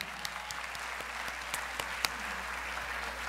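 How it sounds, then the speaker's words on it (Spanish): Audience at a student leadership showcase applauding steadily, a dense even wash of clapping with a few sharper individual claps standing out, continuing throughout. "eso merece un aplauso"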